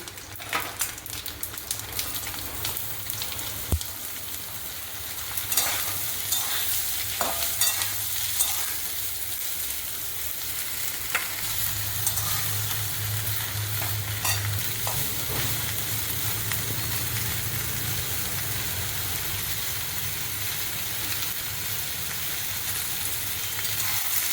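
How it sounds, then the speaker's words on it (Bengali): Steady sizzling of ridge gourd frying in a pan, with repeated scraping and stirring strokes throughout and a brief clink early on. "এবার আমি চিচিঙ্গাগুলো দিয়ে দিচ্ছি।"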